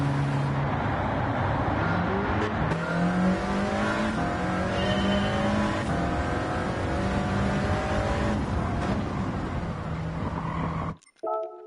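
Race car engine in Gran Turismo 7 during a Master Licence test, a loud sustained whine climbing and shifting through gears at high revs, with brief squeals, before cutting off abruptly near the end.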